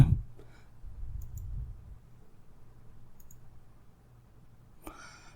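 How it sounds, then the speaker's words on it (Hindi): Computer mouse clicks in a video editor, a few sharp, faint clicks spaced apart over a quiet low background hum. "वीडियो प्ले करने के बाद स्टार्ट सिलेक्शन पर क्लिक करेंगे।"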